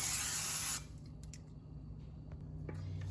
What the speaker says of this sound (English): you can do what I do and just use cooking spray